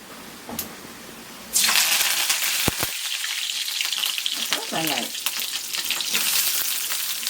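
Curry leaves hit hot oil and erupt into a sudden loud sizzle after a quiet moment, followed by steady crackling spatter with occasional stirring clinks, close by.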